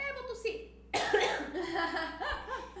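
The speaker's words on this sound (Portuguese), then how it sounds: "vou tossir" A single burst of coughing bursts out after a brief spoken lead-in, with talk continuing around it; loud and close, the cough quickly giving way to speech.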